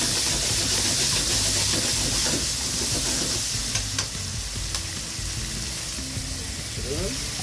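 Garlic, chili and bacon frying in a pan for broccoli linguine, a loud, dense continuous sizzle with stirring scrapes and a few sharp clicks, fading slightly toward the end, with no talking over it.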